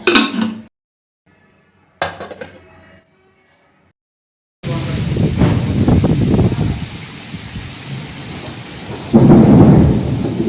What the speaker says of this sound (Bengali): খালি বিদ্যুৎ দিচ্ছে আর মেঘ ডাকছে